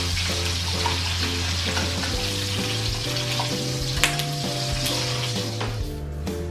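Shallots and garlic sautéing in leftover oil from frying salted jambal roti fish, a steady close sizzle that runs throughout with faint stirring and no voices.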